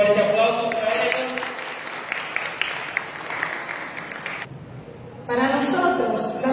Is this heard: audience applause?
yes